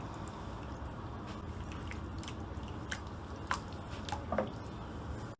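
Boneless chicken pieces are mixed by hand into a marinade for popcorn chicken, making a soft, continuous wet squishing and squelching close by with occasional sticky smacks. No speech.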